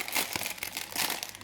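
Packaging from a crafting haul with vases, pots and a silicone mould is rustled and crinkled while being unboxed, giving continuous close crackling with no talk.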